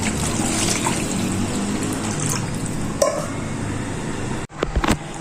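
Steady pouring water splashing and gurgling into garlic-ginger paste in a container, continuous for several seconds before stopping with a few small knocks.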